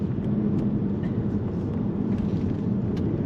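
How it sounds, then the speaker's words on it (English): A Jaguar XK (X150) with a 4.2 engine and ZF six-speed gearbox pulls away in first gear, heard from inside as a steady, even low rumble that holds without a break. "Setting off in first gear,"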